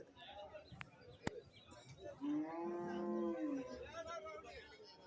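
A cow at a cattle and buffalo market lets out one long, low moo in the middle, with faint background chatter of people and a couple of sharp knocks nearby.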